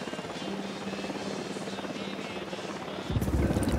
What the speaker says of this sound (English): Helicopter, get down. Helicopter sounding.